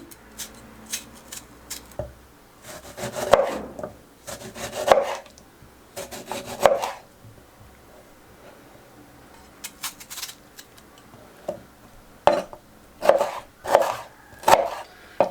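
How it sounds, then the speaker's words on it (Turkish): Repeated knife chops on a cutting board in short bursts as green tomatoes are cut, crisp taps clustered in quick runs separated by pauses, close and fairly clear. "Sıra geldi domateslerimi doğramaya."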